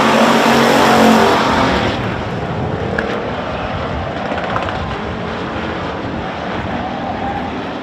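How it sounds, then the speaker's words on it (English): Race cars roar past on a track during a live race, one loud engine swelling close then easing into a sustained, dense drone of several cars for several seconds, with no talk. "Jeevan Martin trying to hold that car down"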